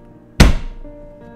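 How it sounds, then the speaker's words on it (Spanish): A single loud, close thud of something heavy falling, a sharp impact that decays quickly into a faint low rumble, with no voices. "un fuerte sonido de algo cayendo me hizo sobresaltarme"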